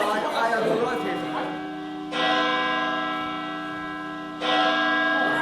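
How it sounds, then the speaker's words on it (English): A victory bell rings in a stage farce, with sustained metallic strikes and a long resonant decay; it is struck again about two and then four seconds in, and voices are heard at the start. "Bell, victory bell."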